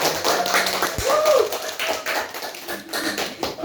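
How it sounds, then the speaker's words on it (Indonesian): Applause for a guest on an Indonesian podcast episode: a steady patter of hand claps carrying on for several seconds at moderate loudness, with a few brief voiced sounds over the top. "Tepuk tangan dulu dong buat Kak Anissa Putri"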